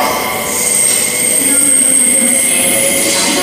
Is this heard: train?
yes